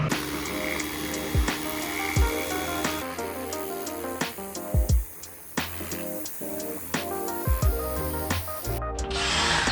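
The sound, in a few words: drilling around a metal bushing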